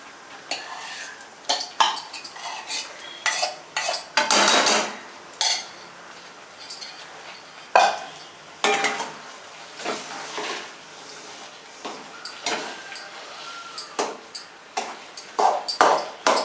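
A spoon stirs sarkarai pongal in a metal pot, giving repeated scraping, clinking strokes with sharp metallic pings. The sound is close and irregular, and no one talks.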